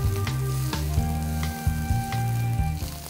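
A knob of butter sizzles in a pan on an induction cooktop, a dense close frying hiss broken by repeated pan or spoon knocks every half second or so.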